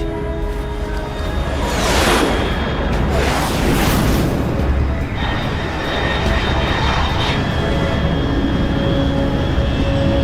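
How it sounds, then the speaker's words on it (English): A fixed-wing aircraft in the Metal Gear Solid Delta video game roars overhead, a loud, sustained engine rumble that swells and sweeps past with a whooshing rise and fall. "Control, unidentified aircraft detected."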